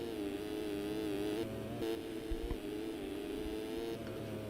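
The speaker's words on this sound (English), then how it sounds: "You hear him revving it there" A dirt bike engine in the MX Simulator supercross game holds a steady, buzzing high-revving drone with slight pitch shifts throughout, loud and continuous with no talk.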